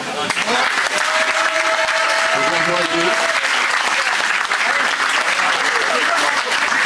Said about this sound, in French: Et on fait un tonnerre d'applaudissements